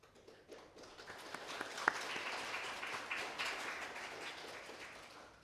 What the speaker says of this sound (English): Please welcome our speaker, Kelvin, with huge round of applause.